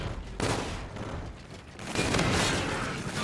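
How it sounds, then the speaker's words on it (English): Rapid automatic assault rifle fire in a first-person shooter game, two dense bursts of gunfire with a short gap between them, loud and close over general battle noise. "Does it shoot slower as an assault rifle?"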